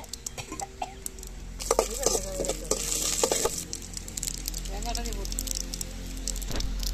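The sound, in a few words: mustard seeds and chana dal sizzling in hot oil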